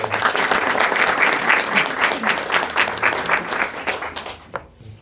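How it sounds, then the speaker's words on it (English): An audience at a school board of education meeting claps in a sustained round of applause, loud and steady, then tapering off and fading out near the end. "Another round of applause for Ryan"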